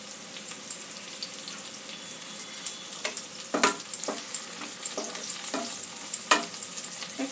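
Fried onion, capsicum and three green chillies are stirred in a pan for sweet and sour chicken, with a gentle sizzle broken by sharp spoon scrapes and clinks against the pan, close and intermittent.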